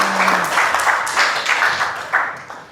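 A class breaks into applause, a short burst of many hands clapping together in a room, fairly loud and close, fading toward the end.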